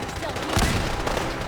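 Machine-gun fire in the video game Fallout 4 crackles in two short broadband bursts over a steady, noisy battle background.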